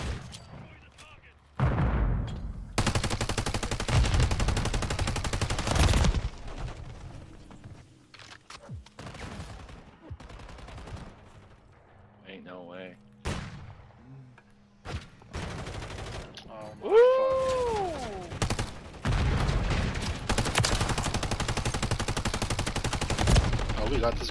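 Video game gunfire in a capture-the-flag style match: repeated bursts of rapid automatic shots and heavier booms, some close and loud, others farther off, with short pauses between volleys and a voice talking over parts of it.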